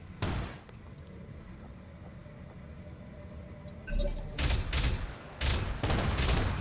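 Enemy fire in the mech game BattleTech arrives as a few separate bursts of muffled gunfire: one short volley near the start, then two heavier rumbling salvos later. A low mechanical hum sits underneath, and no one speaks.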